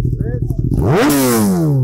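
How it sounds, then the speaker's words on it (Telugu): A Kawasaki Ninja ZX-10R fitted with an aftermarket exhaust revs hard after a quiet idle, its engine note climbing steeply and then falling away in a loud, close roar. "దీనిలో ఇప్పుడు ఈ సౌండ్ అంతా ఎక్కువ రావడానికి కారణం ఏంటంటే దీనికి నేను ఆఫ్టర్ మార్కెట్ ఎగ్జాస్ట్ ఒకటి పెట్టాను"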